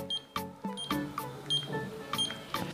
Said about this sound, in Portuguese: Então eu vou colocar a senha aqui agora.